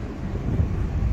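Strong wind buffets the microphone on a hairpin mountain road descending toward Ooty, a loud low roaring rumble that fills the whole moment with no voices.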